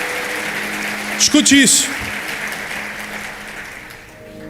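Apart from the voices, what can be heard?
audience applause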